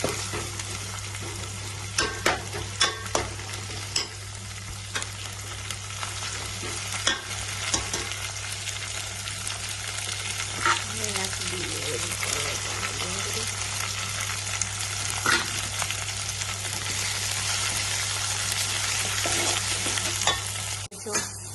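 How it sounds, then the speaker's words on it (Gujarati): Green chili and coriander chutney with garlic and ginger frying in oil in a home kitchen, a steady close sizzle with scattered clicks and scrapes of stirring throughout. "ચટણી થોડી હળવા દઈએ તેલમાં હળવા દઈએ"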